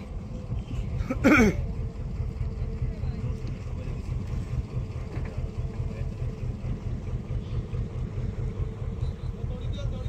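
A trawler's engine drones steadily and low near the Sundarbans' Dubla Char, a continuous rumble under people talking, with a brief sharp whoosh early on.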